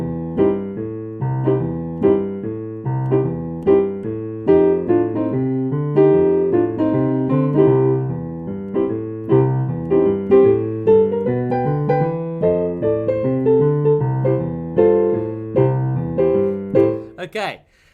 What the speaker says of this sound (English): I'm just going to play a Boogie Woogie for you now, a real simple one